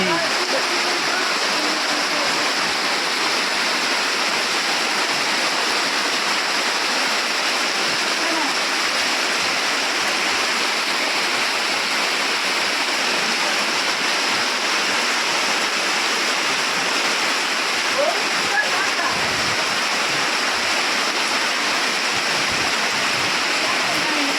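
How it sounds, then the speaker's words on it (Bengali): Heavy rain pours down outdoors, a loud, unbroken broadband roar of falling water that stays constant from start to finish. "বৃষ্টিটা দেখো সেই লেভেলে বৃষ্টি হচ্ছে"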